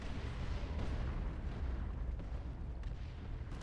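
An artillery barrage in the video game Dawn of War 2, heard as a dense continuous roar of rumbling, overlapping booms, loud and low, with no distinct single blasts standing apart.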